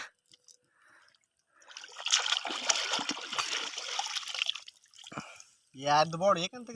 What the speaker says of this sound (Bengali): কাঁকড়াটাকে একবার ধুয়ে দেখাও তো বন্ধুদেরকে